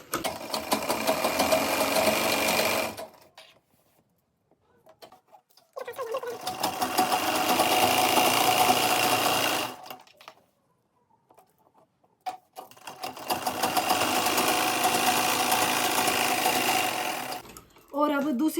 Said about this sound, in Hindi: फिर यहाँ पे कच्ची सिलाई लगानी है इसके ऊपर ऐसे